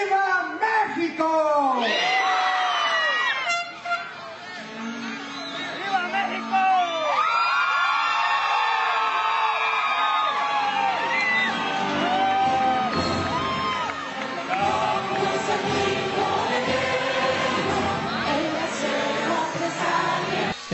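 Crowd at a Mexican independence Grito celebration in Los Angeles led by the consul general, loud sustained cheering, whoops and shouted responses filling the space, with voices calling out over the roar.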